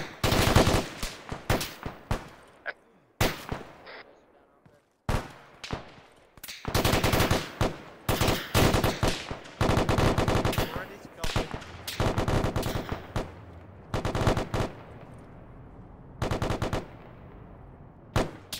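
Sustained automatic gunfire rattles in long, loud, close bursts separated by brief pauses, repeating across the full stretch, with little talk beneath it.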